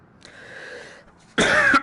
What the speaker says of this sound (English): sorry for the coughing if I'm coughing a little bit too much